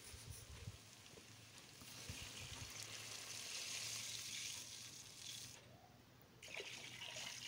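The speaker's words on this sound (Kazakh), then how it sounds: "Осылай қуырып болғаннан кейін суымызды құямыз." Water poured into a pot after frying while making Nauryz kozhe, a soft continuous trickling and splashing over a faint lingering sizzle, fairly quiet throughout with no talking.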